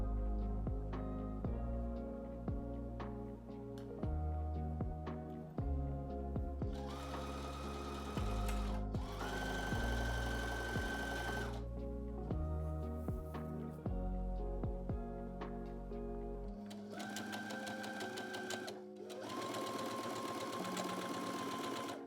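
A sewing machine stitches French seams along the bottom of a sleeve, running in several sustained bursts of fast, even needle chatter at varying speeds, separated by brief stops, close and alone.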